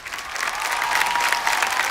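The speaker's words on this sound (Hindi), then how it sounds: "सर के लिए जोरदार तालियां।" Loud, enthusiastic applause from the crowd at a Hindi kavi sammelan poetry event, a thick, continuous roar of clapping at full strength throughout the short burst.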